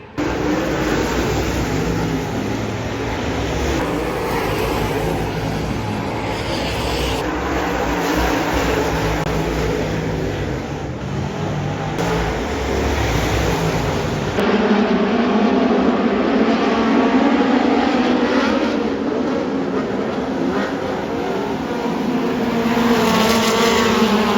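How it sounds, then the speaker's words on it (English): Speedway cars race around the dirt oval at Perth Motorplex, a loud, continuous engine roar that swells and shifts as the pack passes close by, with no talking over it. "The speed cars are out there"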